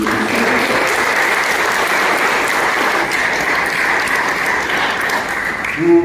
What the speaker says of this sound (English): Can I have a round of applause for Calvin for his leadership?